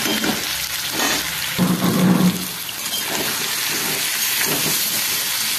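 Spice paste of onion, garlic, tomato and dry spices sizzling and hissing steadily in a hot pan, with a brief louder burst of frying as it is stirred; no talk.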